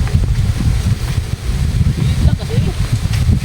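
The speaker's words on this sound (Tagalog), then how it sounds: "Lakas ng hangin." Strong wind gusts across the microphone in open farmland, a heavy, continuous low buffeting with a voice faint underneath.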